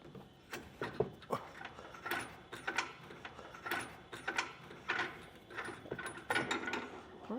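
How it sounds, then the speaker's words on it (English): A knob on a Yakima EXO swing-away storage system, mounted on a 2022 Chevrolet Equinox, is twisted and threaded in, giving faint, rapid ratcheting clicks in an irregular rhythm. "we're going to twist this knob that's back here, thread it in"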